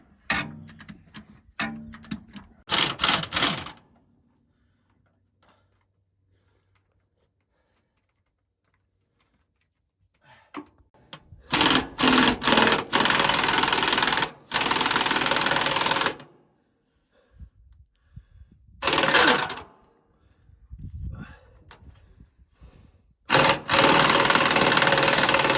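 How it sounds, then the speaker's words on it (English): A ratchet works bolts loose on an Allis Chalmers tractor. It sounds in several loud bursts of rapid clicking, with long quiet gaps between them, and there is no talking. "At least you can get a ratchet on it."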